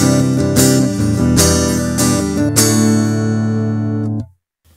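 A dry electric guitar, played without an acoustic impulse response or volume boost, strums several bright chords. The last chord rings out before cutting off abruptly into silence.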